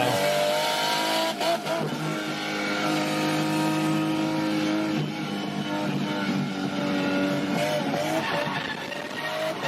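Race car at speed on a lap at a track, a loud sustained engine roar with shifting pitch as it revs and accelerates, with faint tire noise mixed in and no talking.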